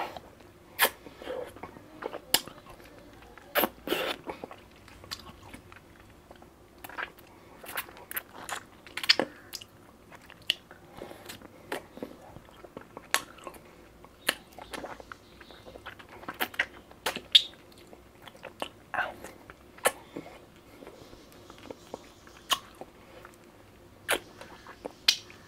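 A blueberry, mango and strawberry lollipop is bitten and chewed close to the mic, with sharp intermittent crunches and cracks over a quiet background, no talking.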